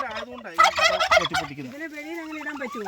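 Turkeys gobble in a loud, close burst of rapid rattling calls, followed by quieter warbling calls on a farm where turkeys are kept alongside honey and dragon fruit.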